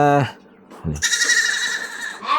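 Dorper sheep bleat loudly and close by in a breeding pen, one long wavering call following a short low grunt, with another bleat starting at the end.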